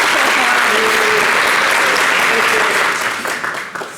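A TV studio audience breaks into loud, full applause that holds steady for about three seconds and then tapers off, with a faint voice underneath.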